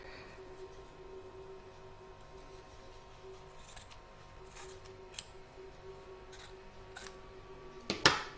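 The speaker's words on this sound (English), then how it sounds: "You're now going to trim away all the excess fabric from both front and back" Fabric scissors trim excess material from a T-rex appliqué piece on a sewing project, with a few sparse quiet snips spread over several seconds, then a sharper cluster of cuts near the end over a faint steady machine hum.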